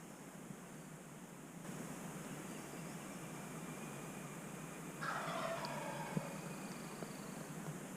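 A wild turkey gobbles at a distance in an outdoor ridge setting, a faint rattling burst about midway over steady background hiss, with no talking.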